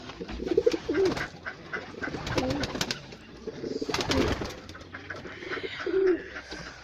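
Pigeons cooing in a breeding loft during a new breeding season, several soft repeated coos close by with light rustling and movement between calls.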